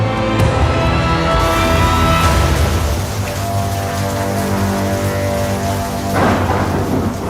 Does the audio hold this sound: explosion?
no